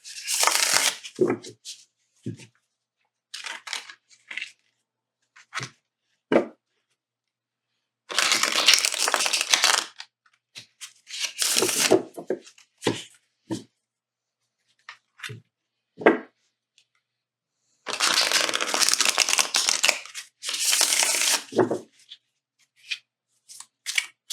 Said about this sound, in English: Okay, so let's shuffle these.